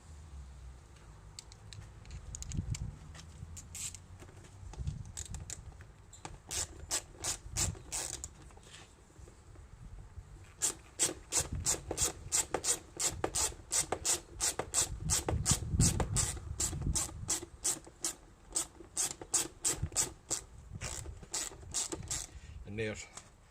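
Screws are undone to take the front fairing off a 2005 Aprilia RS50, with close rubbing and creaking handling noises, then a long run of rapid, even ratcheting clicks, moderately quiet.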